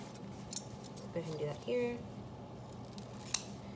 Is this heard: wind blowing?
no